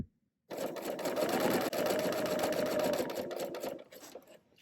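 A BERNINA sewing machine fitted with a piping foot stitches fabric around a filler cord, starting after a short silence and running in a close, steady whir for about four seconds before slowing to a stop.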